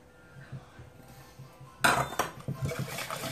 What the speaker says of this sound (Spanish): seguimos mezclando